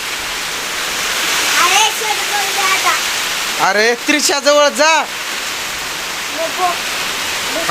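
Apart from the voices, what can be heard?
heavy rain pouring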